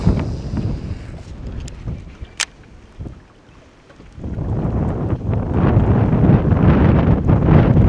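Wind gusting across an inland lake during a fishing outing, a broad rushing roar buffeting the microphone, easing briefly midway before rising again louder and steady.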